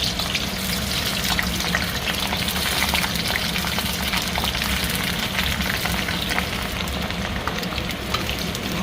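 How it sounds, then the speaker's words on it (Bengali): Pointed gourd pieces fry in hot oil in a pan, giving a steady, dense crackling sizzle that holds at an even level throughout, with no talk. "ভালো করে আগে তেলে ভেজে নেব।"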